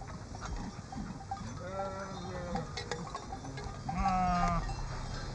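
Sheep bleating on a farm walk along the Hondsrug, a few wavering calls around two seconds in and a louder, longer bleat near the end over steady outdoor background noise.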